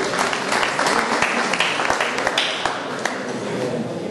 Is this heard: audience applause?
yes